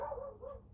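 A small dog gives a quick couple of sharp, high barks, close by but fairly quiet, and nothing else is heard.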